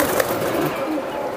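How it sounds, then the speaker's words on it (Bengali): Big silver pigeons, large birds kept as pets, make brief low coos close by against a hissy background. "এটা সিলভার কবুতর, বড় সাইজের।"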